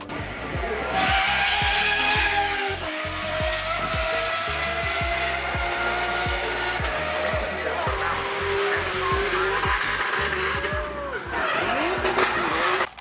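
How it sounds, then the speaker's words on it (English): Formula 1 race cars at the Goodwood Festival of Speed pass one after another, loud high engine wails rising and falling with gear changes and tire noise, close by and continuous, with faint crowd voices underneath. "Sounds like the F1 group just pulled down, so we can watch them go by"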